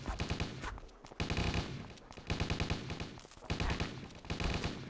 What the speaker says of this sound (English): Firing at will!